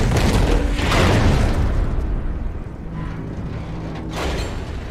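A heavy explosion in the video game Metal Gear Rising during the Raiden versus Senator Armstrong fight, a loud booming burst followed by a rumbling decay and a second smaller blast.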